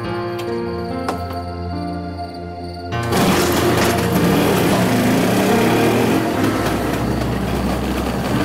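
A small engine idles with a buzzing putter, then about three seconds in it revs hard into a loud, rough roar that holds to the end.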